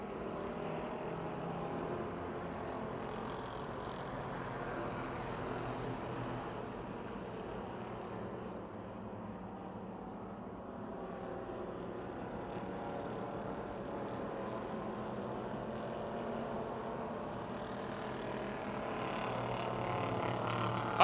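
Race cars roar around the Pennsylvania Motor Speedway oval in Pittsburgh, a steady, distant, blended engine drone that swells slightly toward the end with no breaks.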